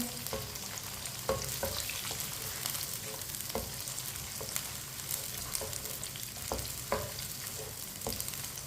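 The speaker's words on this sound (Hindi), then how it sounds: "भिंडियों को 2-3 मिनट के लिए फ्राई कर लेंगे" Thick-cut okra pieces frying in a pan over medium heat, a soft steady sizzle under regular scraping stirs and occasional sharp clicks of a spoon against the pan.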